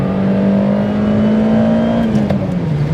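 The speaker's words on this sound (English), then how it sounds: "It's just such a zingy little motor." A 1990 Toyota Corolla FX-GT with its 4A-GE engine revs high in gear, a steady, loud, buzzy tone that holds then eases slightly as revs drop near the end.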